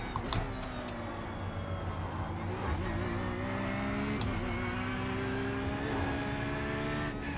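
Porsche GT3 race car engine at Knockhill circuit, held at high, steady revs under hard acceleration; a loud, continuous, close-up drone that rises slightly midway, with no talking.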